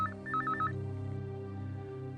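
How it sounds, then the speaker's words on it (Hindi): A telephone rings with a fast warbling electronic trill in two short bursts, fairly quiet indoors over a sustained low musical drone, with no one speaking. "लो, लगता है उसी का फोन आ गया।"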